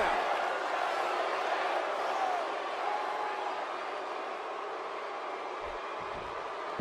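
A capacity arena crowd in the WWE 2K17 wrestling video game gives off a steady, broad roar that stays at a moderate, even level throughout the short stretch.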